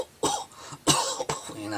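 A voice imitates coughing: three harsh, raspy bursts spaced about half a second apart, close and fairly loud, with no talking around them.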